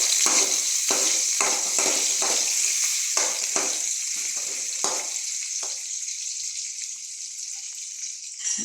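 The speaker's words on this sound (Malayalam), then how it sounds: "കടുകിട്ട് കടുക് പൊട്ടി, കടുക് മൂത്തിട്ടുണ്ട്." Mustard seeds sputtering in hot oil in a wok-like pan, a dense steady sizzle with a cluster of sharp crackling pops early on that thin out as the frying settles.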